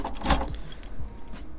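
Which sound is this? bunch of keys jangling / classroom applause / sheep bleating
bunch of keys jangling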